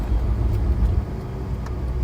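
Engine of a white Ferrari rumbling steadily while being driven, a low continuous drone with road and cabin noise, no talking.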